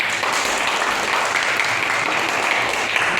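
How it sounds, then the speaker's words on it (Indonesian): Steady, dense applause from a classroom audience for a presenting group, continuous and fairly loud throughout with no break. "Masih tepuk tangan untuk kelompok visual."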